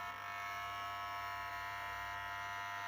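A switched-on laboratory power supply and a homemade low-frequency sine-wave inverter built on an EGS002 board hum with a steady, faint electrical buzz, even and unbroken throughout.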